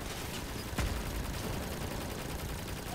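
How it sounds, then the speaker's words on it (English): Vehicle-mounted machine guns in the combat game Crossout fire a sustained rattling stream with one sharper crack standing out, steady and moderately quiet. "I'm using machine guns."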